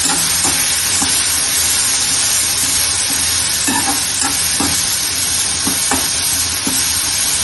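Small shallots and half a large onion fry in a hot pan for a South Indian sambar tempering, a steady loud sizzle running throughout with repeated scraping stirs and light clinks of the spoon.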